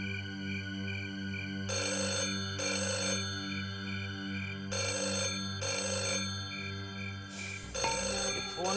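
A telephone rings in repeated bursts over a steady electronic tone, loud and close, the pattern cycling several times before cutting off.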